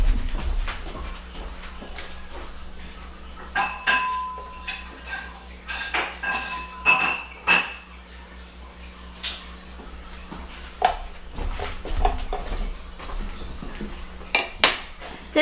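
An ice cream scoop clinks and scrapes against a bowl while scooping peanut butter filling, with irregular metallic taps and clatters spread throughout, fairly close and moderately quiet.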